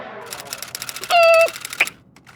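A voice imitates a typewriter with a rapid run of clipped clicks, then a brief tonal ding-like hum and a final sharp tap, heard alone at moderate volume.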